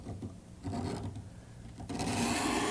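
Old lacquer finish is scraped off a piece of furniture in short rasping strokes, a few rough scraping passes that get louder toward the end, with no voices.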